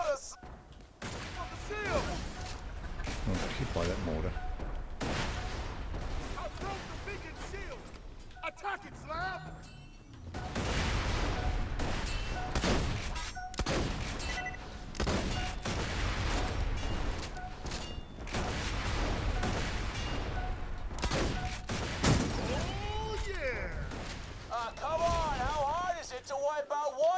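Mortar fire and gunfire in Borderlands, with bursts of shots and booms rolling through a long, busy combat stretch while voices and in-game chatter talk over it.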